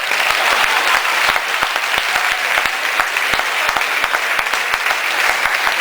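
Sustained applause from a large audience at a Hindi poetry gathering in Pune, dense steady clapping filling the hall for several seconds without speech.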